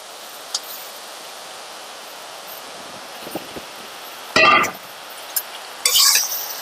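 Pieces of roasted country chicken drop into a pan of browned onions and get stirred for nattu kodi curry, two short clattering scrapes standing out over a faint steady sizzle.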